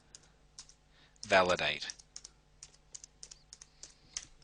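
Quick clicky typing on a computer keyboard while searching the web, with a short burst of speech partway through and scattered keystrokes before and after it.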